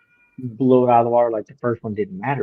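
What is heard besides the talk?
domestic cat meowing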